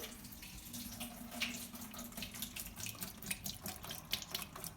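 Canned mushrooms are drained at a kitchen sink: running tap water splashes steadily with scattered louder spatters, fairly quiet and close.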